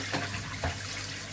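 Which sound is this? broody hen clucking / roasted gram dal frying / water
water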